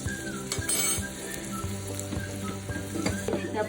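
Cashews frying in ghee or oil while being stirred for a jaggery halwa, a steady close sizzle broken by scraping spoon strokes and light clinks against the pan, with no talk.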